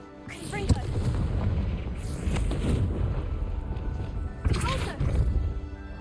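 Confringo blast spell in the Hogwarts Legacy video game: a sharp explosive crack followed by a sustained rumbling boom, then a second loud blast a few seconds later, both close and heavy.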